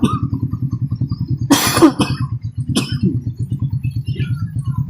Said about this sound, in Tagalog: Hindi pa rin nawawala yung ubo.